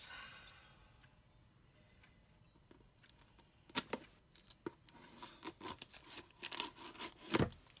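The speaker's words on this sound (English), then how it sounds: "These are the world's worst scissors" Scissors snip and crunch through cardboard in scattered sharp clicks and cuts, faint rustling in between, growing busier toward the end.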